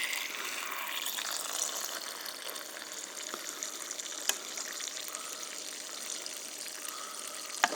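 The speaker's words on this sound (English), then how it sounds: "and then you fill it with water" Water pours into a mug holding a grain beverage with chicory mix, a steady hissing, bubbling fill that runs for several seconds at close range with small splashes.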